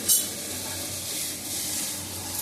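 Papaya pieces in a frying pan give a soft, steady hiss and sizzle as they are lightly tossed, with a small clatter at the very start and faint stirring scrapes.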